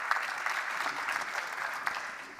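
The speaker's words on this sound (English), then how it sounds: "and a round of applause" A round of audience applause for a startup pitch at an AI and sustainability summit, steady dense clapping that stays fairly faint and even throughout.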